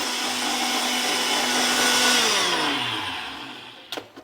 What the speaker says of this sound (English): lid on and blend